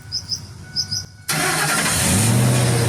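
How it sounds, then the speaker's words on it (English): Ford F-150 engine starting near a workbench: a quiet stretch with faint bird chirps, then the engine abruptly catches and settles into a steady, loud idle rumble. "I always turn on the engine before bolting the module on the frame"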